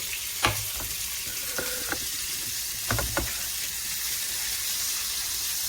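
Deer steaks brown in a skillet with a steady hiss of frying fat and a few soft clinks of a utensil early on, with no voices.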